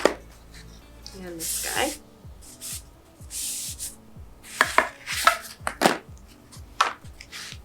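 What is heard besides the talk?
rag wiping dust off sanded cabinet trim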